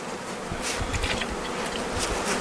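Dense, continuous buzzing of many honey bees in a package being installed into a hive, loud and close, a thick humming swarm sound with no talking.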